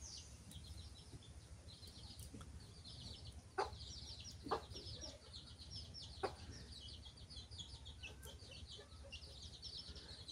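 Chicks and hens cluck faintly in a quiet village home. Soft high peeps and scattered low clucks come through, with a few brief louder calls over low background noise.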